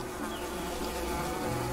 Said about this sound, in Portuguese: que barulho insuportável de mosquito